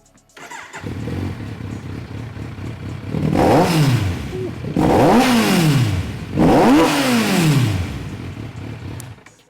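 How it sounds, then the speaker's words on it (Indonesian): A Kawasaki Z900RS motorcycle engine revs hard three times in a row, each rise and fall of the exhaust loud and close over a rumbling idle. "Sekarang kita akan mendengar dari knalpot Z900 RS"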